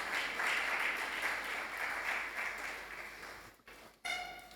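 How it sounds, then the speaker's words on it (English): An audience at a conference on Africa's creative industry applauds in a dense, steady wash of clapping for several seconds before it fades and briefly cuts out. "A round of applause for him, please."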